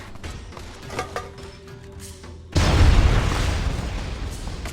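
A single heavy explosion in Fallout New Vegas hits midway with a deep booming burst that decays into a rumbling tail, following a quieter stretch of faint clicks and tones.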